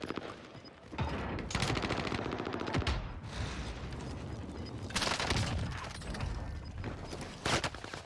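Rapid gunfire in Warzone on Rebirth Island, with bursts of automatic shots from an MP7 rattling close and loud, several volleys separated by brief lulls, mixed with scattered mechanical clatter.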